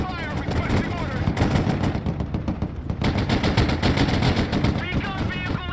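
Sustained loud bursts of machine-gun and rifle fire in the military strategy game Broken Arrow, rapid overlapping volleys filling the whole stretch with shouted voices mixed in.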